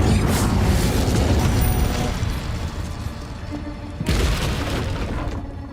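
A Bombarda blasting spell explodes in the Hogwarts Legacy video game, a loud booming burst with a rumbling tail that fades, then a second heavy blast near the end.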